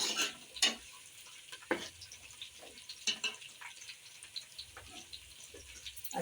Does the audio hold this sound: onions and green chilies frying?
yes